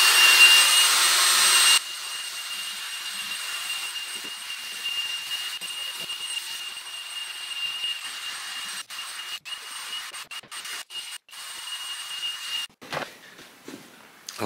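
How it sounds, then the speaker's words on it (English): A buffing brush polishes the restored wood of a vintage Victorian or Edwardian dentist cabinet, giving a steady, close whooshing hiss with a thin whine above it, then several short brushing strokes toward the end. "we're going to go with a buffing brush"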